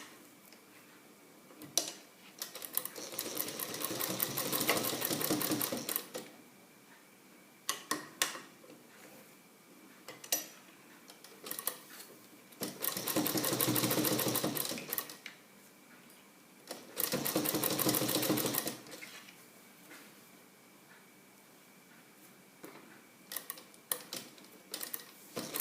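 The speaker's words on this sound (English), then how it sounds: "you need to stitch exactly at the edge of the fold" A sewing machine stitches the placket of a kurta in three long, close bursts of rapid mechanical whirring, separated by quieter pauses with occasional light ticks and clicks.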